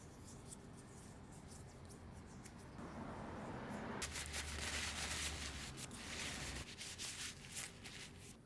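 Carved Bradford pear wood bowl and spoon being oiled: soft, continuous rubbing and wiping strokes that swell and fade, close and quiet, with no voices.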